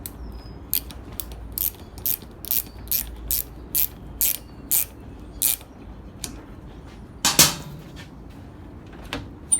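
A Toro self-propelled mower drive cable being tightened, heard as a close series of sharp, evenly spaced ratcheting clicks, about a dozen in a steady rhythm with a louder snap near the end.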